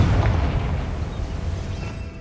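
Confringo blasting spell in the Hogwarts Legacy video game, a deep rumbling boom with a low-heavy blast that sustains loudly and rolls on for a couple of seconds before easing off, with no talking.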